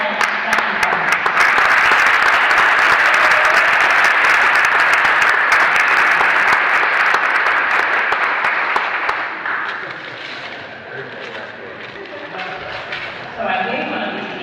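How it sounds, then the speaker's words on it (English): A large audience at a college academic convocation applauds in a dense, steady wash that fades after about ten seconds. A few scattered claps linger as a voice begins to speak. "Please again applause for two dear colleagues touching hearts."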